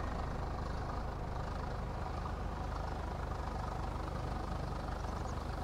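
A tractor engine idles in Farming Simulator 22, a steady, dense low rumble that holds at an even level throughout with no pauses.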